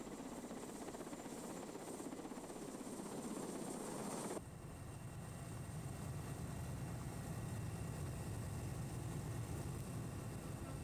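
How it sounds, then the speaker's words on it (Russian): A helicopter arriving at the Uzon volcanic caldera in Kamchatka, a loud continuous engine and rotor roar that shifts character abruptly partway through, steady and close, without voices. "Прилетел вертолет."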